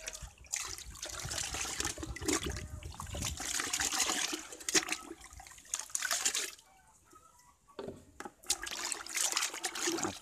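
Melted palm sugar syrup pours in a steady liquid trickle, loud and continuous with a few short breaks and splashy dribbles, with no talking.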